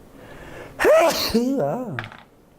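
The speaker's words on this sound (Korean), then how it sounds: "지금 막 재채기가 또 나오려고 그래." A single close sneeze with a sharp intake and forceful burst, trailing into a voiced, wavering sound, heard alone over a quiet room.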